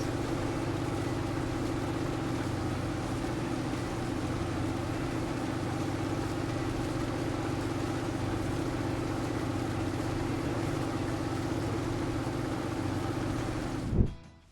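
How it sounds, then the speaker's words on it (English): A combine harvester cuts crop in Farming Simulator, its steady engine drone and humming machinery holding constant for the whole stretch with no voices, then cutting off abruptly at the end. "The combine was actually harvesting my crop."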